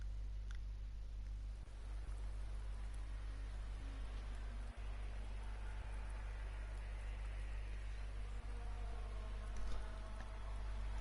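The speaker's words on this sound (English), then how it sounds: "Alright, so you can see it started raining now." Steady rain hisses down during a Rally Fighters video game race, a dense, even wash of drops with a few faint clicks, under a constant low engine-like hum and no voices.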